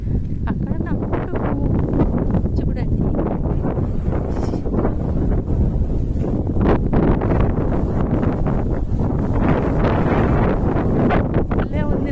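Wind sweeps across a planted sugarcane field, a steady, loud broadband rush that buffets the microphone continuously with rustling swells throughout.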